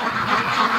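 Free-range ducks crowded at one end of their pen give a brief burst of loud, close quacking with no one talking over it.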